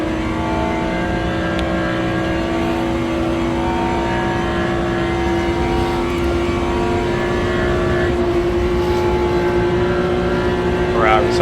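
Ferrari and BMW race cars in the Le Mans Ultimate racing game roar steadily at high revs in a multiclass race, a loud continuous engine drone with layered harmonic tones, while a commentator talks over it.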